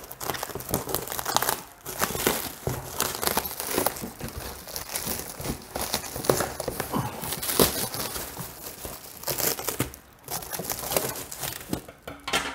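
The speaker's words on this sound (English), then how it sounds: "Okay, let's cut it out of its wrap." Plastic moisture wrap being cut and pulled away from the rugged shipping box of a Bitmain Antminer S19 Pro, a steady run of close crinkling and tearing with brief pauses and no talking.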